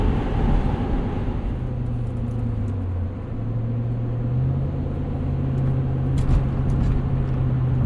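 A 2000 Mercedes-Benz ML55 AMG accelerating on a highway, its engine a steady droning rumble that climbs slowly in pitch under heavy road and wind noise, with no talking.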